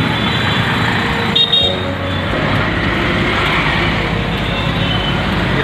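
Steady roar of dense traffic on a crowded Delhi road with rickshaws, engines droning continuously close by with a brief horn toot near the start.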